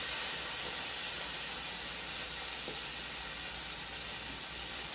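Beef pot roast sears in a hot pan over medium-high heat, a steady, loud broadband sizzle and hiss that holds evenly throughout with no talking.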